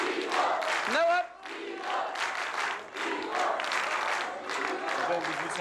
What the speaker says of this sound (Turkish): çok alkış aldınız